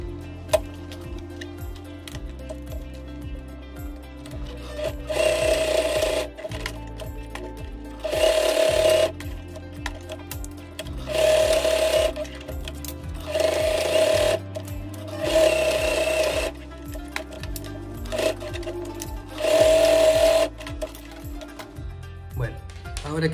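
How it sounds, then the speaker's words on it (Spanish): A sewing machine stitches together fabric and backpack webbing parts of a homemade pet harness in repeated bursts of rapid mechanical chatter, several runs a few seconds each with short pauses between, close and loud over background music. "Entonces cosemos esas dos partes y la de acá"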